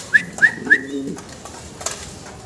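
Fancy pigeons coo three times in quick succession close by, each a short rising burst, followed by a couple of softer calls and light background noise.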